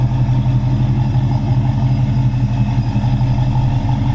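A warmed-up supercharged 5.7 Hemi V8 with a TorqStorm blower idles steadily nearby, a loud, smooth, even low rumble that stays constant throughout.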